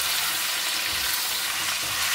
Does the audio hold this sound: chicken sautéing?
yes